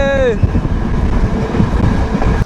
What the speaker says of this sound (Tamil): ட்ரெயின் கொஞ்சம் கொஞ்சமாக ஸ்பீடாக போக வலிக்கிட்டுது